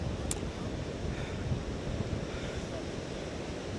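Ocean surf breaking on Carolina Beach on a rainy day ahead of Tropical Storm Chantal, heard as a constant wash of waves mixed with heavy wind buffeting the microphone.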